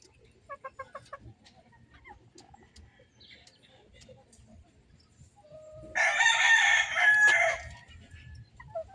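Gamefowl chickens clucking softly nearby, then a rooster crows loudly once, standing out over the quiet yard.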